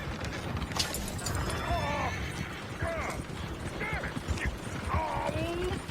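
Horses in Red Dead Redemption 2 whinnying several times in rising and falling calls over a busy background of clattering hooves and mechanical rattling, fairly faint and mid-distance.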